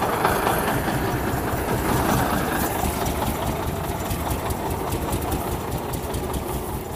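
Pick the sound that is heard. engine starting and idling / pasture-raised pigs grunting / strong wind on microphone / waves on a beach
engine starting and idling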